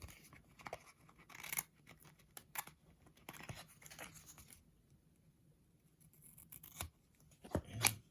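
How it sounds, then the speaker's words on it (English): Scissors cut along the edge of a postcard in a few quiet, separate snips and rustles, close up, with pauses of near silence between. "We're going to snip off the edge of that"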